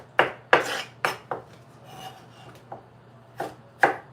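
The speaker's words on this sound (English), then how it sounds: "just dicing up the tomatoes" A knife dicing tomatoes on a cutting board during a home cooking session, giving sharp, irregular chopping knocks with short scraping rubs between them, close and distinct, with no talking.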